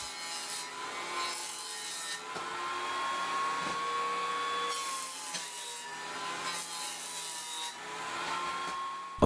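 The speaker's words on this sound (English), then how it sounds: "On the table saw, I ripped them all to 3 1/4 inch." A table saw rips 2x4 boards, a steady motor whine with rough wood-cutting roar that swells and eases in repeated passes as the boards go through one after another, close and loud, with no speech.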